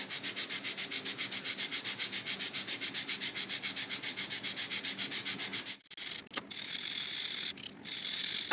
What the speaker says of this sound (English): So I just take the regular sanding stick and just kind of start